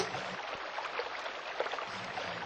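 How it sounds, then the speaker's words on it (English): A sound effect of blood flowing through blood vessels: a steady, faint, whooshing rush of broadband noise with slight low pulsing, continuous throughout without voices. "That's the sound of blood flowing."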